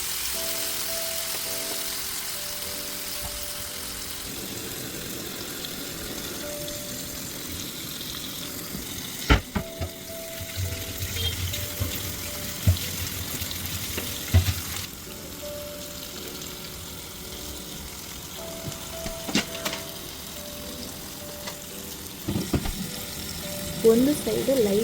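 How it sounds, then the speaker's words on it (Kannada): Marinated butter fish sizzles in hot oil in a pan, a soft continuous frying hiss broken by occasional sharp clatters and stirring knocks, fairly quiet throughout. "ಈ ಎಣ್ಣೆ ಕಾದ ಮೇಲೆ ಮ್ಯಾರಿನೇಟ್ ಆದ ಫಿಶ್ನ ಫ್ರೈಗೆ ಹಾಕ್ಕೊಳ್ತಾ ಇದ್ದೀನಿ."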